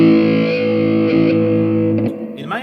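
An electric guitar played through a Zoom G3Xn multi-effects unit with a distorted metal tone holds a loud, sustained chord for about two seconds. It then cuts off into brief squealing noise.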